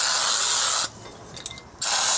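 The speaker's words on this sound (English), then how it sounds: "Spray this assembly right here." Aerosol gel lubricant sprays in two loud, steady hissing bursts onto a spare tire chain assembly, separated by a short quiet gap with faint mechanical clicks.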